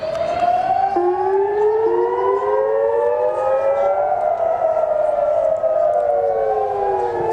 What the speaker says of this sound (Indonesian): Sirine peringatan terdengar di berbagai wilayah termasuk di kawasan pelabuhan utama di Haifa.